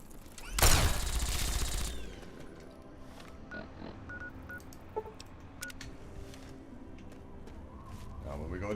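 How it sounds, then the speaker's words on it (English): A burst of Fallout video game gunfire lands as one loud, rapid volley near the start, then gives way to sparse game beeps and clicks while someone talks over it. "Now what the fuck are you shooting at?"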